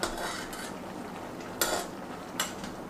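Cabbage greens stirred in a pot, soft wet shuffling broken by two or three sharp utensil scrapes and clinks against the metal, close and fairly quiet.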